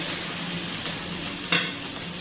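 Spices with fenugreek seeds and salt sautéing in a pan for a broccoli dish, a steady sizzle with a brief scrape of stirring midway, close and alone without talk.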